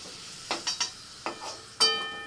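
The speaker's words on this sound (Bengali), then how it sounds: "লবণ হলুদ দিয়ে আলু ভালো করে ভেজে নিয়েছি" Chandramukhi potatoes frying in a pan with salt and turmeric. A spatula clinks and scrapes several times over a faint, steady sizzle, ending in a sharper metallic knock.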